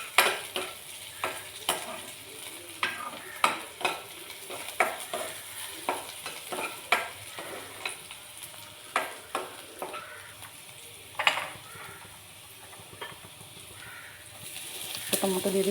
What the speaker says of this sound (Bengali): আর এখানে আমি তেলের মধ্যে পেঁয়াজটা দিয়ে একটু ভেজে নেব